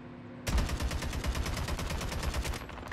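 Rapid automatic gunfire in Call of Duty Mobile, a steady burst of close, punchy shots lasting a couple of seconds after a quiet lead-in.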